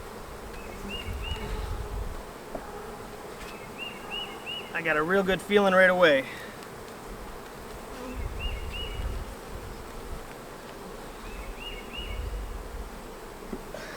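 Honeybees buzz calmly in an open hive, a steady soft hum with a louder burst of wingbeats near one bee, while someone talks over it now and then.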